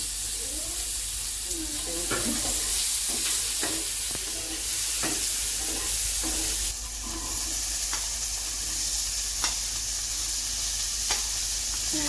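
Capsicum, tomato and green chilies frying in a hot pan, a loud continuous sizzle broken by repeated sharp spatula scrapes and knocks.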